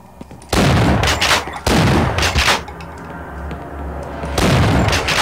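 Gunfire in the video game Half-Life: loud close bursts of rapid shots in three separate volleys with brief quieter gaps between them, and no talk over them.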